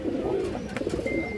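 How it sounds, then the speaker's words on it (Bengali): A pair of large pigeons coo nearby, soft throaty calls repeating in a short rolling sequence, with no talk over them. "সুন্দরী ব্র্যান্ডের একজোড়া কবুতর"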